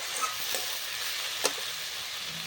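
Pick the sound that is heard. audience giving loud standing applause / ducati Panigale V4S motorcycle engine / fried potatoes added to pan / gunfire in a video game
fried potatoes added to pan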